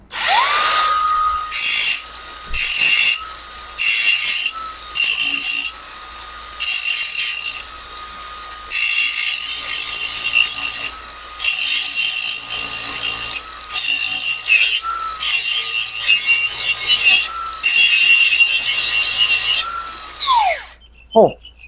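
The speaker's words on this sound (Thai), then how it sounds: "ผมมองว่าในการเจียนะครับ เกียร์2กับเกียร์3เนี่ยกำลัง สวยเลยเจียได้ดีมากๆ เลย" Pumpkin 50279 cordless angle grinder running at speed setting 3, about 6,500 rpm: a steady close motor whine broken by repeated harsh grinding bursts of a second or two each, ending as the motor spins down.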